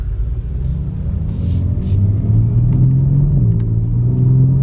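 A Genesis car accelerates hard through its gears, a loud, steady engine rumble with a rising tone that dips and climbs again at the quick shifts, heard up close with no talking.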